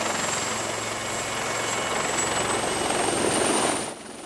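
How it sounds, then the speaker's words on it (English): A Wildcat military helicopter from a naval air squadron thunders loudly and close in flight, steady rotor thump and high turbine whine, fading slightly at the very end. "We join a Wildcat helicopter from 815 Naval Air Squadron, helping to gather intelligence."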